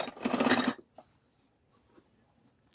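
A sewing machine runs briefly, stitching the seams of a cloth cap in a short loud burst under a second long. Near silence follows, broken by a few faint clicks.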